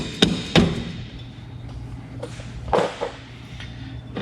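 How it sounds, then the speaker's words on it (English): A few sharp knocks on a Morris Minor brake drum, two close together, then a softer one and a louder pair a couple of seconds later, near and metallic-dull, no voices. "You can try to give it a couple taps on the drum"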